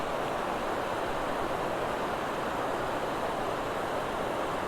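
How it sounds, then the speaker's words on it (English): A river swollen with extra water rushing strongly at Houghton, a steady dense roar of flow with no breaks and no voices. "A lot more water coming down today."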